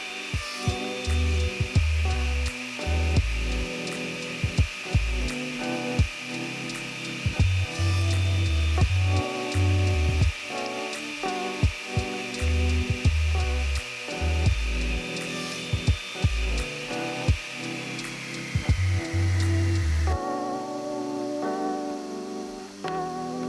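A power saw whines steadily as a chamfer is cut into a mitered wood edge for a coaster, with repeated low thumps and knocks from handling the workpiece, before the motor winds down near the end.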